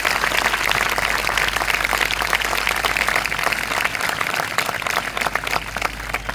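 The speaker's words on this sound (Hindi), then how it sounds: "क्या हम सब मिलके हमारे पास्टर्स का वेलकम कर सकते हैं अच्छी सी तालियों के साथ?" A church congregation applauds to welcome its pastors with a dense, sustained wash of clapping from many hands, loud and steady throughout, with no voices over it.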